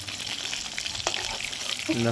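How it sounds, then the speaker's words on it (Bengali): Chela fish frying crisp in hot oil, four pieces at a time, a close steady crackling sizzle with a brief clink and a faint voice at the end. "চার পিস করে করে আস্তে আস্তে ভেজে নিচ্ছি"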